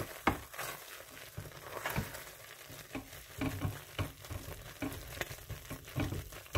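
A thick olive green clay soap mixture is stirred in a container, making repeated wet, slapping scrapes and bumpy churning sounds at close range with no talk.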